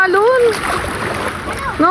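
Strong waves splash and surge against the shore or a boat, a rushing wash of water heard close under lively conversation.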